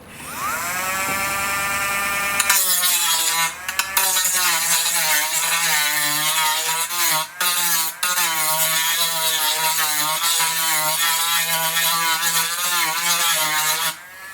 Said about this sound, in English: I'm just going to get my Dremel with the cutoff wheel here and just go around it real lightly